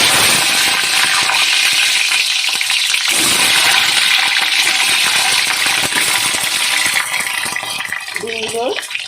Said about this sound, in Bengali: কড়াইয়ের মধ্যে তেল দিয়ে দিয়েছি, তেলটা গরম হয়ে গেছে। এবারে ডিমগুলো দিয়ে দেবো।